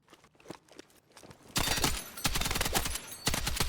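An M240L machine gun firing in the video game Battlefield 6, opening with a few scattered quieter shots and then breaking into a loud, sustained rapid burst of close automatic fire.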